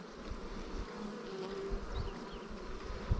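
Honeybees buzz softly around an open hive during a spring inspection of the brood, a faint, steady hum with a few passing drones near and far.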